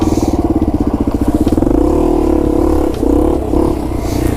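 Yamaha TW200 motorcycle riding through mud, its single-cylinder engine loud and close with a steady throbbing drone that rises and falls as the throttle changes, no talking.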